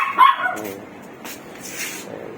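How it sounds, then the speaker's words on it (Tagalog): A pet dog at home, in a group that includes two corgis, gives a loud, close bark at the start, then quieter yips and whimpers trail off. "Ayan yung lahat ng aking aso dito. Ayan, dalawang corgi."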